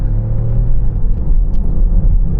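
A BMW X5 in sports mode gives a loud, close, steady engine rumble from inside the cabin, with a low droning hum that swells slightly as it pulls, and no talking.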